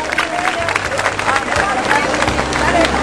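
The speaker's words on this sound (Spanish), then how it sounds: "les damos otro fuerte aplauso" A festival crowd at the San Carlos patron saint celebrations claps and cheers for the outgoing and incoming festival queens, dense applause mixed with crowd noise and voices.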